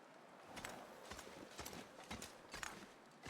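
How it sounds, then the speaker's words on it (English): Heavy stomping thuds from a moose in the snowy wilderness of the video game The Long Dark, several dull impacts spaced about a second apart, moderately close and unaccompanied by any talk. "that sounded like a moose"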